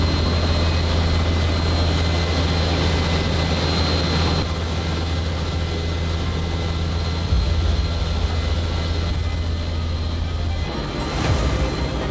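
Steady loud military helicopter rotor and engine roar throughout, close and constant, heard from inside the cabin, with the pitch shifting slightly near the end.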